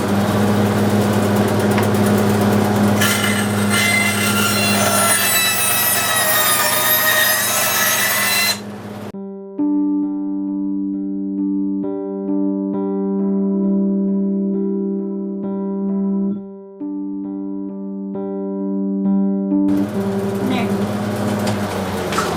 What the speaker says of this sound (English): So I'll very carefully cut around the hole on my bandsaw.